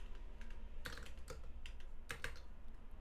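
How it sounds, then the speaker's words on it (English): Digits typed on a computer keyboard: a handful of faint, irregular key clicks in quick small clusters against a quiet background, without talking. "let me type in 16 digits."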